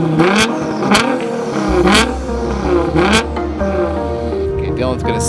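A Scion FR-S doing donuts on a highway, its engine revving hard in repeated rising bursts over a steady low drone, loud and close, with voices talking throughout.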